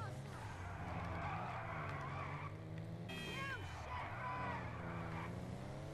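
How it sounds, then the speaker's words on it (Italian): Tires of a JB700W screech continuously while drifting in GTA 5 Online, with a steady engine drone underneath and a sharper squeal rising midway, loud and sustained throughout. "ho provato a fare un po' di drift ma nulla di eccezionale"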